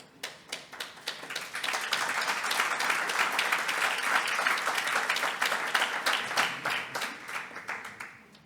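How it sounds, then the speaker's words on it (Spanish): At a corporate awards event, scattered hand claps quickly swell into full audience applause for an award winner, hold steady, then break up into separate claps at the end. "Un fuerte aplauso."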